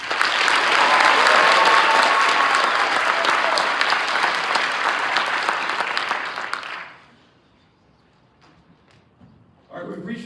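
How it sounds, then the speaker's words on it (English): Awards night audience gives a loud, sustained round of applause for a student athlete, dense clapping for about seven seconds that drops off abruptly into near quiet before a short final burst. "Would you give a quick round of applause?"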